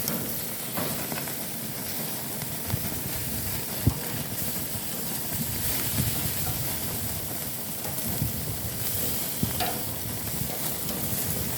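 Picanha steak sizzling on a grill, a quiet, steady crackle with occasional pops and no talking.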